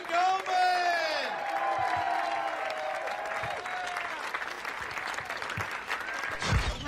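Comedy club audience applauding and cheering for comedian Gary Gulman, a dense sustained wash of clapping with whoops on top that holds steady for several seconds, loud and close.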